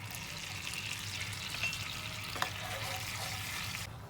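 Garlic and thyme mixture bubbling and sizzling in a pan as it comes to a boil, a steady close hiss with a faint clink midway and no talking.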